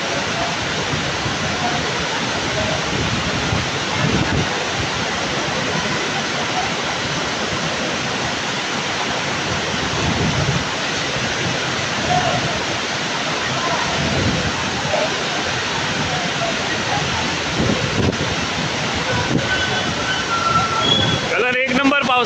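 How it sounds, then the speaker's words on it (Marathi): Large monsoon waterfall near Khed railway station in Ratnagiri, a constant loud broadband roar of pouring water that holds steady throughout, close and unbroken. "धबधबा घेतला, हा सर्वात मोठा धबधबा आहे"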